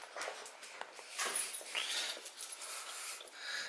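A small dog whimpers and whines in short, uneven bursts at close range, with faint breathy wheezing in between and no talk over it.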